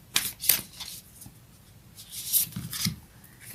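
Moonology oracle cards being shuffled by hand in short papery riffles and slides, a few close bursts spread across the stretch with quieter rubbing between them.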